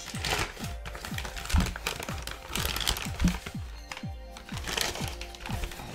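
Kraft paper packaging around a new Mega Drive game being unwrapped and crinkled close up, with a steady run of dry rustles and crackles at moderate volume and no talk.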